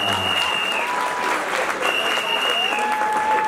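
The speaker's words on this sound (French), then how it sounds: "On applaudit pour le mari." Guests at a Gabonese civil wedding applaud for the groom in loud, sustained clapping with some voices and a whistle-like tone over it.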